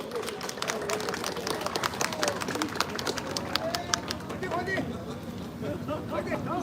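A crowd applauds at an outdoor rally during the Jeju April 3 peace march. The clapping is dense and continuous, mixed with a loud voice over the sound system and general crowd noise.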